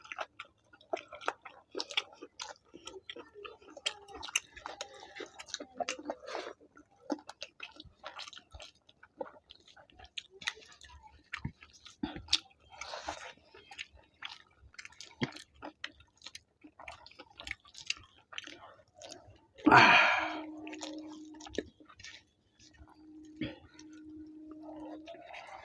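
A chicken leg from spicy chicken curry eaten during a couple's eating challenge, with close, wet chewing and smacking that carry on steadily, and one louder sudden thump partway through.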